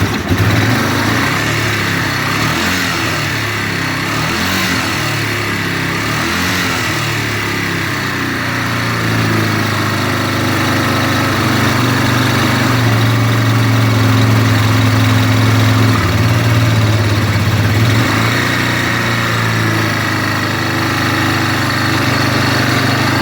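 Small engine fitted with a Chinese replacement carburetor idles steadily and close up for the whole stretch, a continuous buzzing drone with a slight rise in pitch partway through, no talking over it.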